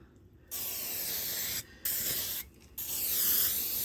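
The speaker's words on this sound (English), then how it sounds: "I just spray it on." Pam canola cooking spray hisses onto raw meat before smoking, in three close, steady bursts of roughly a second each separated by short pauses.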